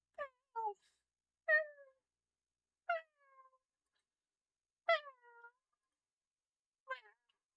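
A person mimics a cat's meow, giving six short, tonal mews with pauses between them. Each call is close and clear, a few of them trailing off into softer follow-on sounds, with nothing else in the background.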